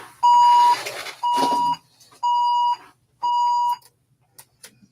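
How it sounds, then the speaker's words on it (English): An electronic alarm beeps four times in an even rhythm, each tone about half a second long, followed by a few faint clicks. "Sorry about that. My alarm was on."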